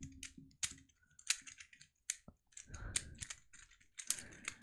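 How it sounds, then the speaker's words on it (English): A series of sharp, close clicks from a pen being clicked come at an irregular rhythm, with faint rustling between them and no talk. "clicking a pen"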